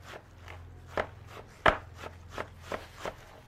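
Sparse, irregular knife strikes on a cutting board as fish belly is minced for Thai folded grilled fish (Pà pỉng tộp), a few sharper chops standing out over quiet kitchen background.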